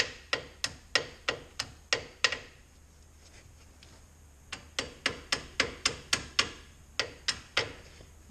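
Repeated sharp metallic tapping while pushing front brake parts back on a 1996-2002 third-generation Toyota 4Runner SR5, a quick burst of about eight strikes, a pause, then two more rapid bursts, close and distinct.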